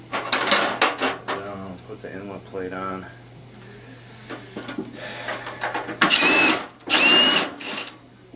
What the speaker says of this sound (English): Put two screws in it right now